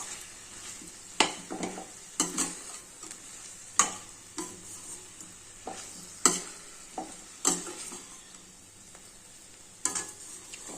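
Okra sizzling in a hot pan while a spoon stirs it, with a steady quiet fry and repeated sharp scraping clicks at irregular intervals, close and alone without speech.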